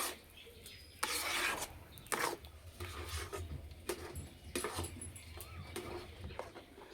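A spoon or ladle stirs thick rice flour paste in a cooking pot, giving soft scraping, rubbing strokes at an irregular pace, close by and fairly quiet over a low background hum.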